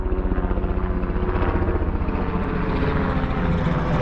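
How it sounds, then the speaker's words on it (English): A helicopter flies overhead near Piestewa Peak in Phoenix, Arizona, its steady rapid rotor thumping loud and close throughout, with no talk over it. "Helicopter."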